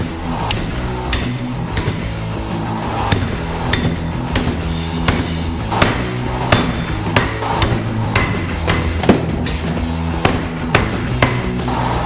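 Steel pole stock being hammered straight after bending, ahead of welding on a homemade spear blade: a steady series of sharp, ringing metal strikes at a fairly even pace, close and loud throughout.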